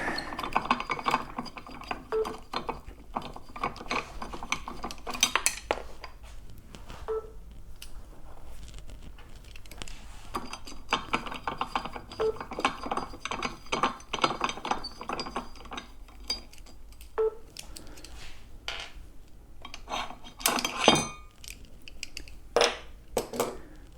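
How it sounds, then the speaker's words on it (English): Pedals are unscrewed from an Extreme Bull Commander unicycle, giving a string of close metallic clinks, ratcheting clicks and grinding turns over a low background hum. No one speaks. "So I'm just going to take the pedals off."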